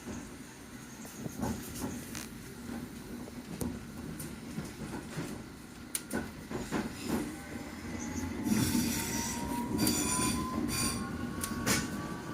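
A London Underground District line train rumbles steadily along the rails, wheels squealing and hissing as it runs, with a rising high-pitched whine toward the end.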